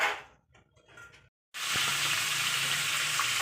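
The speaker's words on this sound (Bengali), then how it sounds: "এই যে মাছ ভাজতে বসিয়ে দিয়েছি" Fish frying in a pan at a home kitchen, a loud steady sizzle that starts abruptly after a brief quiet and continues without break, with faint clatter before it.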